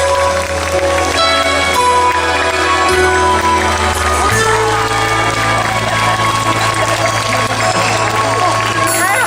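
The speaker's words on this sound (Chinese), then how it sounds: "这边的掌声很大声" Concert audience applause at a Taiwanese-language (Taiyu) golden-song concert in Zhongli, a steady loud wash of clapping and crowd noise under a sustained musical chord that shifts partway through.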